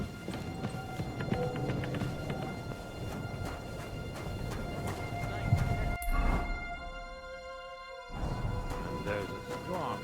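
A horse's hooves beat in a steady clip-clop rhythm while riding in Kingdom Come: Deliverance II, moderately loud against game ambience, with a brief pause midway before the hoofbeats resume.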